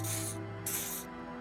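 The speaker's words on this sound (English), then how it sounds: "He does you the odd smelling spray," Two short hissing bursts of pheromone spray from a canister in Disco Elysium, each lasting under half a second with a brief pause between, over a steady low tonal hum.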